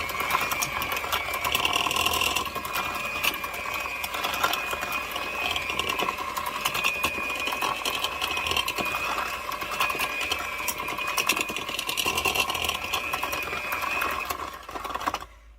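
An electric hand mixer runs steadily while mixing sugar for chocolate chip cookie dough, giving a continuous close whirring motor drone with a faint rattle, then cutting off near the end.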